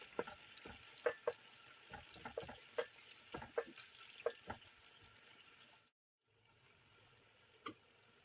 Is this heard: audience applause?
no